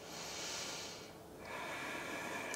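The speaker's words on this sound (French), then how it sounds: "Encore 3 respirations ici." Slow, soft breathing during a yoga pose: a long airy exhale, then a brief pause and a fresh breath, close and quiet with no talking.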